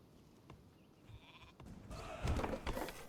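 Sheep bleat in the Northgard strategy game, faint at first, then a louder burst of bleating and farm-animal noises near the end over quiet game ambience.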